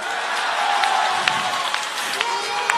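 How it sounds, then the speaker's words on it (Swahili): A crowd at a Kenyan political rally applauding for Raila Odinga, a continuous, fairly distant rumble of clapping and cheering with scattered sharper claps and voices mixed in. "Simpigie Raila Odinga makofi."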